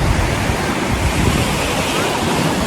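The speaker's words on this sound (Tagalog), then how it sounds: "naririnig yung mga alon." Steady roar of surf with broadband wind noise buffeting the microphone throughout, no clear breaks between waves.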